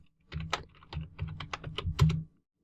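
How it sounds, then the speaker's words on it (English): Quick keystrokes tap on a computer keyboard to enter a login, a short run of about a dozen crisp clicks in an even rhythm, close and moderately loud. "So let's type that in."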